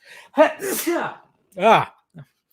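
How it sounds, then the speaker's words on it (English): A loud, close sneeze with a gasping build-up, then a second sneeze and a couple of small sniffs. "I'm going to sneeze."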